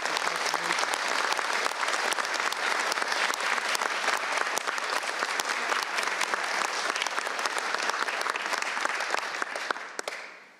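Sustained round of applause from an indoor crowd at a state firearms bill signing, dense steady clapping filling the room for about ten seconds before tapering off at the end.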